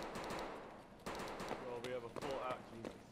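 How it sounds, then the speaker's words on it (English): Gunfire in a shooter video game set in a mall, with sharp shots over dense game noise and voices talking throughout. "It's just gunshots, because that's a gunshot."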